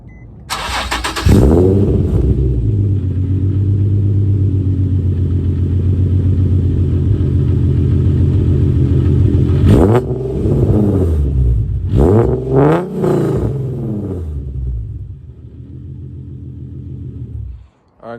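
Nissan 350Z V6 engine and exhaust fitted with the old Y-pipe starts up, then settles into a loud, steady deep idle rumble, with a few sharp revs blipped near the end before shutting off.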